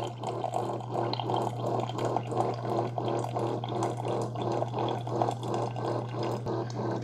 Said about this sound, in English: I can hear a pump and the water's coming out.